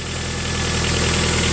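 A car engine with a tiny vacuum-hose leak, the hole covered so it returns to normal idle, drones loud, close and steady without a break.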